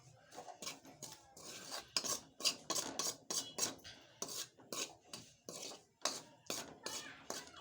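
Rice flour roasting in a pan over low gas, stirred with a utensil, makes a quick run of rhythmic scraping and clinking strokes, close and fairly loud.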